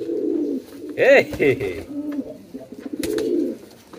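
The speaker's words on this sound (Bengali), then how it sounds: "এই আমাদের নলগুলো এখন ডাকে শুরু করে দিয়েছে নতুন কবুতর দেখে" Pigeons, including a Bombay-type bird, coo in a loft as they react to a newly bought bird; a few throaty coos sound close and fairly loud over a background of murmuring voices.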